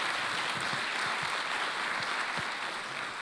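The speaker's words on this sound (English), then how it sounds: "I also like to give one more round of applause to our fabulous speakers and Rosanne for moderating today." An audience at an economic outlook event applauds its speakers, with steady, full clapping and a few sharper individual claps standing out, continuing evenly throughout without speech.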